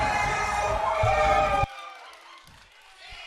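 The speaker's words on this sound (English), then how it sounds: "There was a massive explosion of noise from the crowd as something happened in another game." Loud stadium crowd roar during a football game, a dense swell of cheering and noise that cuts off abruptly partway through, leaving quieter murmur and a few faint knocks.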